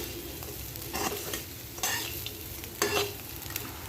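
Fried taro root is stirred with curry leaves in a hot pan after the stove is switched off, giving soft sizzling and three distinct scraping stirs of a spoon against the pan at regular intervals.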